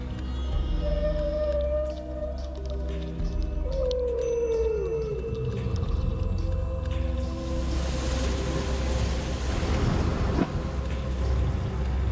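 Whale calls in the Mayotte lagoon: drawn-out tonal moans that glide in pitch, rising and falling over a steady background of water and boat rumble, followed by a broader wash of noise.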